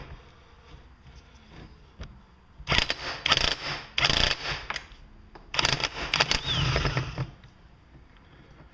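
A wrench works loose the left-hand-threaded clutch on a Poulan Wild Thing chainsaw, producing bursts of close, rapid ratcheting clicks in several separate runs.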